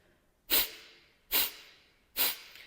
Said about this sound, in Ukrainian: Зараз будемо робити капалабхаті. Коротке, 36 разів всього ж. Тобто ми робимо активний видих через ніс.